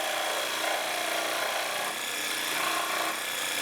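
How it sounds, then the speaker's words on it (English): Cordless Craftsman jigsaw cutting a circle in PVC pipe, a steady close rasping buzz that holds continuously throughout with slight dips in intensity, no voices. "the cordless jigsaw is not as quick as the electric, but it works"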